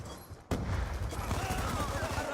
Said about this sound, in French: Je lance une grenade!